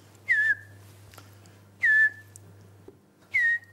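A person whistles an imitation of a pygmy owl call three times, each a short rising-then-falling note separated by pauses, over a low steady hum.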